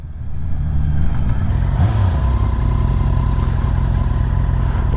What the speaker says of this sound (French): Tu peux éteindre ta moto s'il te plaît?